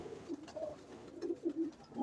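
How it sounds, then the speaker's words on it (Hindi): A pigeon coos softly nearby, a few low, throaty, rounded calls repeating in short bursts against quiet background. "लेकिन उड़ा हुआ कबूतर ये अच्छा है।"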